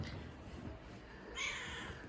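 A cat meows once, a short near call standing out over quiet room noise with a faint background hum.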